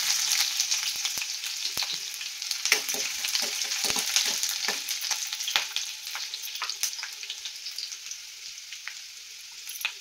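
Garlic cloves and a little onion frying in hot oil with curry leaves, a steady bright sizzle with crackling pops and occasional utensil scrapes, close and continuous throughout.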